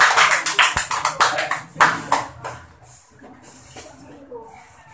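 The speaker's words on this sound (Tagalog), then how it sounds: "Atong sugaton sa basipan palakpak." A small crowd claps to welcome the speakers at a church gathering, brisk, close clapping for about two seconds that quickly thins out and fades into quiet room noise.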